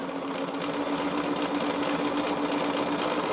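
A sewing machine runs steadily while stitching a charm tote at a quarter-inch seam, giving a loud, even, continuous motor hum with rapid needle chatter and no talking.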